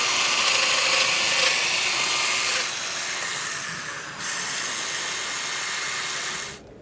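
A domino joiner whines steadily as it plunges a mortise into a trim board, loud and close, then briefly dips in pitch before running on and stopping near the end.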